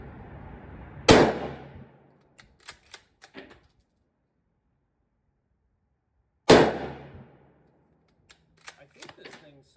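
Two loud, sharp rifle shots from Mosin Nagant M91/30 and M44 rifles at a shooting range, about five seconds apart, each followed by metallic clicks and clacks of bolt handling.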